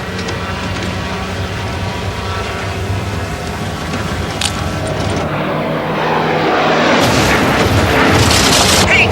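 A fuel tank explodes in a film scene, a loud, sustained roaring boom that swells and deepens toward the end, with dense rumbling noise throughout.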